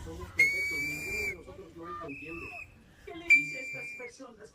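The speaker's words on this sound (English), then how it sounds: "Keep blowing your whistle." Sharp, piercing whistle blasts, two long shrill bursts, over a background of shouting voices nearby.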